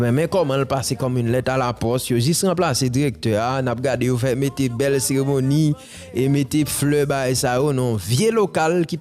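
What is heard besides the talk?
None of the usual background noises is heard.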